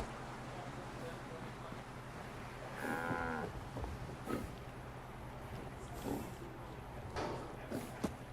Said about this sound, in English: there's the cows on top of each other